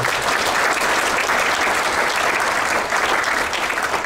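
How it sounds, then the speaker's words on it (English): Dense, steady applause from a large audience at a 2011 event in Moscow, loud and continuous with no talk over it, a thick wash of clapping filling the room. "So how about an applause for those guys?"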